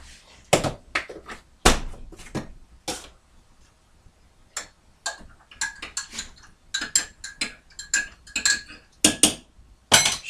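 A spoon stirs creamer into coffee in a cup, making a run of bright, irregular clinks and taps against the sides, close and distinct, with brief pauses between bursts.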